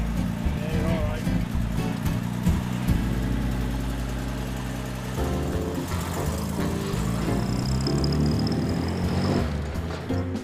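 Classic Aston Martin DB6 being driven, its engine giving a steady low rumble with shifts in pitch as it pulls away, close and continuous under people talking.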